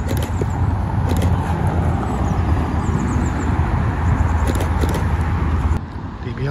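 Aston Martin DB11 Volante convertible at a street supercar gathering rolls by as a steady car noise that stays loud, then eases off near the end, amid general roadway background.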